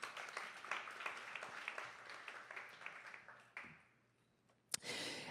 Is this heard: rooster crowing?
no